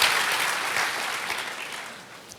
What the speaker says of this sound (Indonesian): Boleh tepuk tangannya di extend buat para worship leaders, choir, dan musicians.